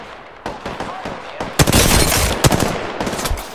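Gunfire in the video game Spitfire 2 crackles in rapid bursts and single sharp shots, loud and close, with short pauses between volleys.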